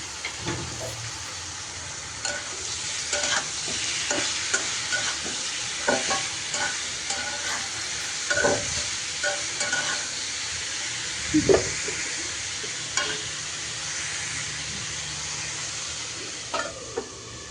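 Potatoes seasoned with turmeric and salt frying in a pan, a continuous close sizzle and hiss with repeated scraping stirs and occasional clinks of a spatula against metal throughout.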